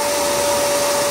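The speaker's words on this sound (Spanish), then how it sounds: "Así que aquí anda con su aspiradora" A household vacuum cleaner, painted all over, runs steadily while being used to clean inside a home, giving a loud continuous whine with a strong constant tone and no voices.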